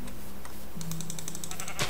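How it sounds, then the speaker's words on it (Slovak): Sheep in the Minecraft video game give a short bleat over quiet ambient game sound, joined by a rapid run of light clicking and a brief bright blip at the end. "vidím ovce"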